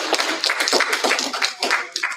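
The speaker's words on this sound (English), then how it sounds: "Let's please give our readers a last round of applause." An audience at a student and faculty reading series applauds, a dense patter of many hands clapping close by for a couple of seconds.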